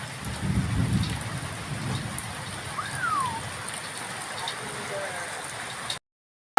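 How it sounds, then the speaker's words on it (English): During a storm in the Cansilyan countryside of the Philippines, thunder rolls as a low, muffled rumble early on, over a constant wash of rain and faint outdoor background noise. "looks like we're getting quite a little bit of thunder and quite a little bit of lightning"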